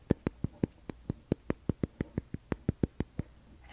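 Fingers tap on an object in a quiet ASMR setting, about twenty crisp, close knocks in a quick, fairly even rhythm, with no voice over them.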